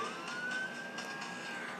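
A police car siren in the Need for Speed No Limits racing game wails steadily in a single rising tone over engine and game noise, fairly faint and brief.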